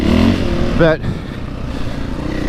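A Husqvarna 501 FE dirt bike engine while riding, heard as a close, loud buzzing engine with a quick rising rev before it drops back to a rough steady drone, with wind noise.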